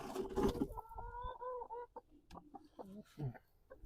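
Nine-week-old chicks being cleared out of a wood-chip brooder cheep and cluck in short, close, tuneful calls after a burst of rustling and shuffling.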